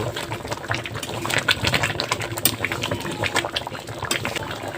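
Dal boils in a pot on the stove, a busy, continuous bubbling and gurgling that stays close and moderately loud throughout.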